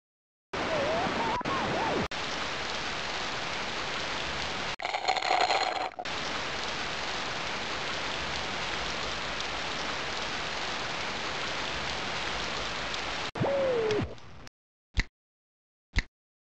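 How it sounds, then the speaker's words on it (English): Continuous heavy rain hissing steadily in the video game Sammy's Science House, with a few faint tonal blips and abrupt cuts near the end. "Heavy rain. Strong winds. Today is hot with heavy rain and strong"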